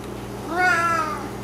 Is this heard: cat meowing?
yes